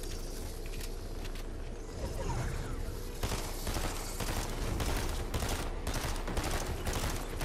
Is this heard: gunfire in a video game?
yes